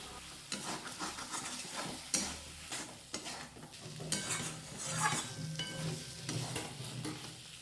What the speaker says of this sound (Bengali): দিয়ে দেওয়ার পর আবার ভালো করে মশলার সাথে পটল মিশিয়ে নিতে হবে।